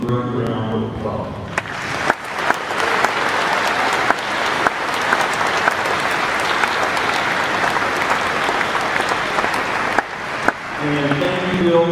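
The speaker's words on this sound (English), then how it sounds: "let's give them a great round of applause" Sustained audience applause at the ACM ICPC World Finals 2016, a dense, steady wash of clapping from a large crowd lasting several seconds, with brief spoken words at the start and end.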